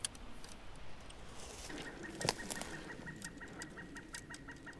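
A bird calls excitedly near flooded willow brush during bobber fishing, with a run of evenly spaced, repeated calls at moderate distance over outdoor background noise.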